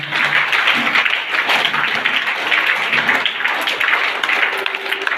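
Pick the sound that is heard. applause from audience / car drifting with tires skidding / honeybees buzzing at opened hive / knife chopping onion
applause from audience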